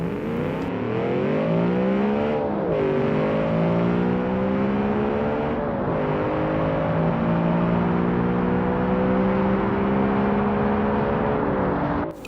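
A racing car engine in a video game race, revving loudly and steadily with repeated gear shifts as the pitch climbs and drops, close and continuous throughout.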